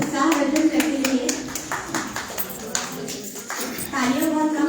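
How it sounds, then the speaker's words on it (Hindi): Scattered audience clapping at a spring poetry festival in Bhopal, a steady patter of individual claps that thins out midway and then picks up again, with voices murmuring underneath. "आप तालियों से जरूर उत्साहवर्धन करते रहिए।"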